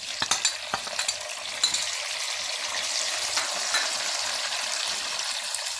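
Chopped tomatoes and chillies hit golden-fried onions in a pan for matar pulao, a few quick clanks and splats up front giving way to a steady, close sizzle.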